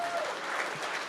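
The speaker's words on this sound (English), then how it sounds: "Give a round of applause for Mr. Albert DeRocher for this evening" Steady applause from a gala-night audience fills the room, dense and moderately loud throughout, with no break in the clapping.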